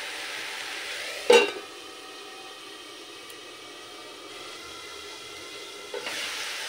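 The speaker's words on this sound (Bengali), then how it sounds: "এবারে পেঁয়াজ বাটা, লঙ্কা বাটাটা দিয়ে মশলাটা খুব ভালোভাবে কষিয়ে নেব তেল ওঠা পর্যন্ত" Onion paste and chili paste masala frying in oil, a soft continuous hiss and sizzle with a sharp clatter near the start and another stir toward the end.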